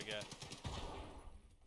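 A brief burst of automatic gunfire rings out in the video game Escape from Tarkov, sharp and fairly close, fading quickly within about a second and a half.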